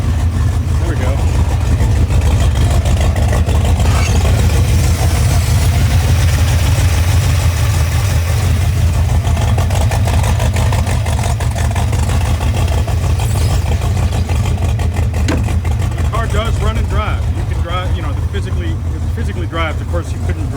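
A Cadillac V8 idling in a Lamborghini Countach replica built on a Pontiac Fiero, a loud, steady low rumble running unbroken for about twenty seconds, close by, with faint voices and small clicks over it.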